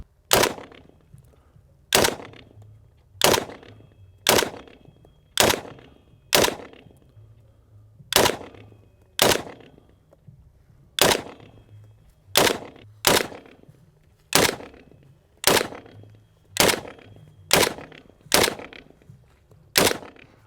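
A Palmetto State Armory AK47 rifle fires a magazine of single shots at a steady, unhurried pace outdoors, each loud crack followed by a short decaying echo, about eighteen shots in all with no talking.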